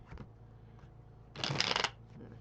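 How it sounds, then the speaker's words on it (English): A quick riffle of tarot cards being shuffled, a short crisp burst in the middle, with faint handling rustles before and after. "All right, one more shuffle."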